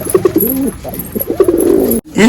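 Pigeons coo close by in a loft, giving several soft rolling calls in quick succession, loud and clear with little else around.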